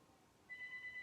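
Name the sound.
landline telephone ringing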